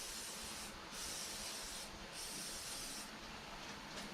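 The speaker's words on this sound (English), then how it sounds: "So then I take my WD-40 and I coat them." WD-40 aerosol sprayed over freshly honed cylinder bores of a 360 engine block, three steady hissing bursts of about a second each, close and fairly loud, with no talking.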